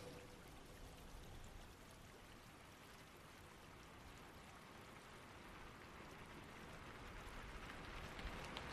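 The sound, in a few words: relentless rain, sudden downpour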